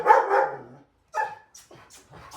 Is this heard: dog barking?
yes